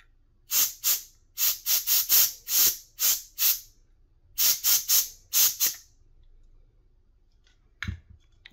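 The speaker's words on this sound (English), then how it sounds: "Okay, a little canned air to the rescue" Canned air sprays in about fourteen short, sharp hissing bursts, loud and close, while a Jungle Green Nintendo 64 console is cleaned. The bursts come in quick clusters, then quiet follows with a faint knock near the end.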